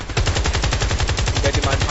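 Rapid automatic gunfire in Battlefield Play4Free, a fast, loud, even burst of shots close by, continuous for the whole short stretch.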